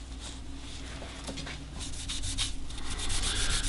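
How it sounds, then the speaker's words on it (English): Stained flame ash wood being sanded by hand, with close, rasping rubbing strokes that grow slightly louder toward the end. "And then we'll probably sand just a slight bit of this out."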